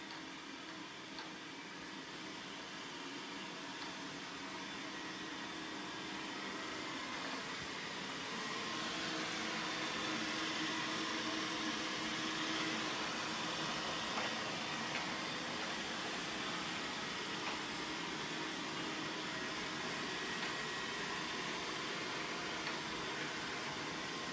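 A Dreame robotic mop and vacuum cleaner runs with a steady, broadband whirring hiss that grows slightly louder partway through, continuous and close with no talking.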